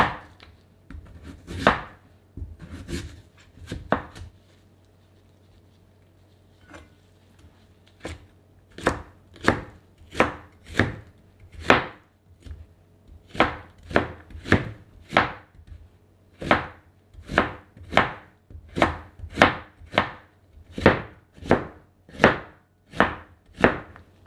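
Radish for a steamed rice cake being cut with a knife into thick strips on a board, a close series of sharp regular chops, a few at first, a short pause, then a long steady run.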